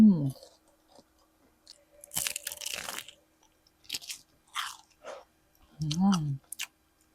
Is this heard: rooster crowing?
no